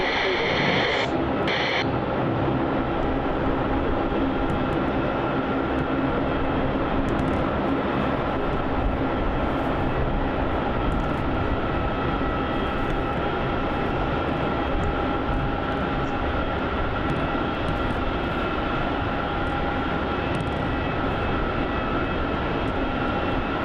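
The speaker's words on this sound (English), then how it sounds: "that touchdown of that Jetstar A320" A Jetstar Airbus A320 at Melbourne Airport produces a sustained, loud jet engine roar that holds steady for the whole stretch, with faint radio chatter underneath.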